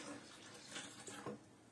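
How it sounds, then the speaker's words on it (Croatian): Water is poured into a blender for homemade plant milk, a soft continuous splashing trickle lasting under two seconds with a few louder gurgles near the end, fairly quiet and without talk. "I tu ćemo sad još dodati naravno vode"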